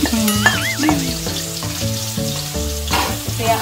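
Garlic, onion and chili sautéing in a pan for chicken pastil, giving a steady close sizzle with light stirring, while background music plays over it.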